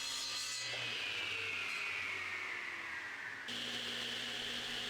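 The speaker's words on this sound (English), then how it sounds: "Here I'm just ripping it to its rough width." A piece of redwood is ripped to rough width with a power saw, a steady whining cut under broadband noise that continues throughout, with the motor tone shifting partway in.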